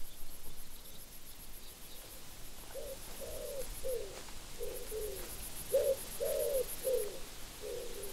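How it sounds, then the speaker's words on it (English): A pigeon in the hunting game The Hunter: Call of the Wild gives a series of soft, low coos in short repeated phrases, fairly faint over a quiet outdoor ambience. "Sounds like a pigeon or something"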